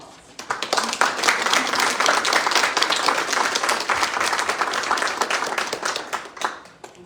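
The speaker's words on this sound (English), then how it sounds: "round of applause." Audience applause at a women's conference in New Jersey, dense clapping from many hands that swells quickly, holds steady for several seconds, then tapers near the end.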